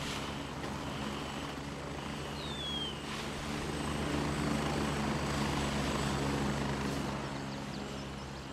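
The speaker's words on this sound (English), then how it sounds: "That's an enemy chopper coming in." An enemy helicopter in the military shooter Grayzone Warfare drones with a steady rotor hum that swells gradually louder as it approaches, heard alone without speech.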